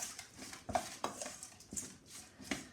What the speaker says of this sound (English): Give it a little mix